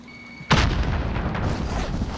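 A frag grenade explodes in the video game Warzone, one sudden loud blast followed by a rumbling, debris-filled tail that slowly decays, with no talk over it.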